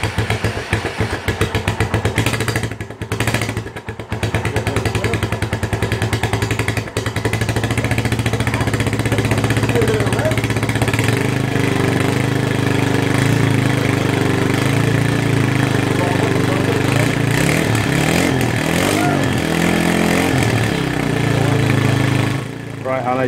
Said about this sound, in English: Hana, if you want to just start the bike up for us.